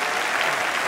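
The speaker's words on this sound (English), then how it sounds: "We'll just welcome the guys back on to the arena for a big round of applause" An arena audience at a police dog display bursts into loud, dense applause, a continuous wash of many hands clapping close by.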